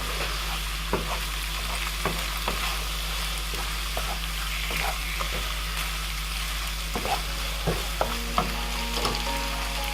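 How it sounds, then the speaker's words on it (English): Chopped chives being stirred into low-protein pasta in a frying pan: a steady sizzle with repeated clinks and scrapes of a utensil against the pan, a faint low hum running underneath and no voices. "So I've just chopped up some chives, just adding them in, give it all a good stir."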